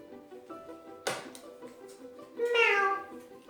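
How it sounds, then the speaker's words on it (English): A cat meows twice, close by: a short first call, then a longer, louder rising-and-falling meow after a brief pause. "A cat."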